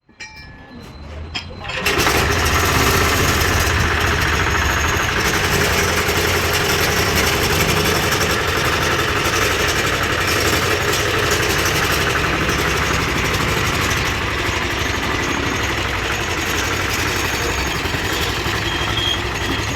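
A berseem reaper cutting machine's small engine catches after a brief quiet start and settles into a loud, steady, close running clatter that continues without pause, with faint voices underneath.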